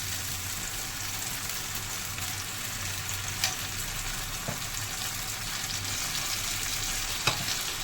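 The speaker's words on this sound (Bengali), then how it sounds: "এবার চিলাগুলো একটা একটা করে ভেজে নেবো" Chilas fry in a little oil in a frying pan, giving a steady close sizzle and crackle throughout, with a couple of faint clicks from the pan and no talking.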